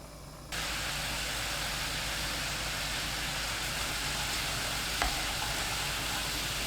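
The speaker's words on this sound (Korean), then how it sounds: "물 200ml, 진간장 2큰술, 다진 마늘 반 큰술 넣고 센 불로 끓입니다." Water with soy sauce and minced garlic comes to a boil over high heat, a steady loud hiss and bubbling that runs nearly unbroken after a brief quiet start, with one small knock near the end.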